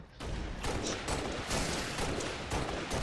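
Rapid DMR rifle fire spammed in a Halo Reach match, a dense, loud, unbroken volley of shots layered over one another for a few seconds.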